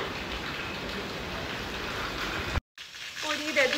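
Steady heavy rain pours onto rooftop stairs, a dense continuous hiss that cuts out briefly and then resumes close by.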